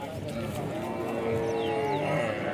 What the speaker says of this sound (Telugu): ఎర్రగడ్డ గేదెల సంతలో ఏ విధంగా గేదెలు ఉన్నాయో చూడొచ్చండి